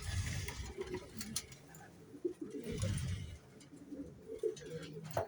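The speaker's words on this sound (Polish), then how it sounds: "24 na zegary, są gołębie wszystkie." Soft racing pigeon coos come in a few low, rounded bursts amid faint outdoor noise, fairly quiet and close by.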